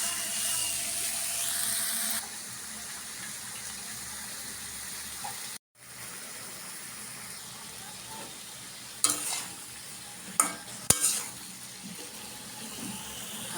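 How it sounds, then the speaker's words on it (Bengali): Potatoes and eggplant fry with spices in a pan, a soft, steady sizzle with faint stirring and a few sharp utensil knocks near the end. "মশলার সাথে আলু বেগুনটি এখন কষিয়ে নেবো"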